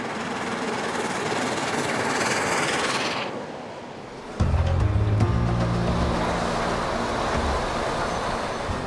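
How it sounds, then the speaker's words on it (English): Tornado, a steam locomotive, runs at speed along the racing stretch of the East Coast main line near Northallerton. A loud, continuous rushing roar and rail rumble fill the clip, and the sound shifts abruptly about halfway through. No one speaks. "the loco is settling into its stride again on a part of the East Coast line known as the Racing Stretch."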